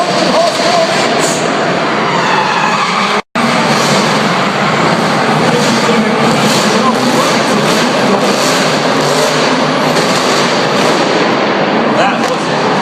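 Several drift cars, each well over 600 horsepower and including a two-wheel-drive Subaru, race around a track at a live motor show with a dense, loud, continuous engine roar that cuts out briefly once near the start.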